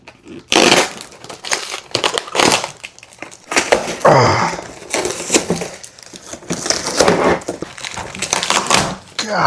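Tape is ripped in repeated loud, close bursts from the cardboard packaging of a Nerf MegaBow, with short pauses between the tearing strips.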